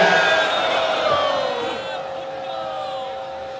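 A large crowd at a political rally for Bhutto chants slogans, a loud, sustained mass of voices that fills the whole stretch and slowly tails off.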